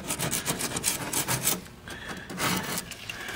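Thick grease being scraped off the underside of a vehicle, a close series of rough rasping strokes, loud at first, then a brief lull before more scraping resumes.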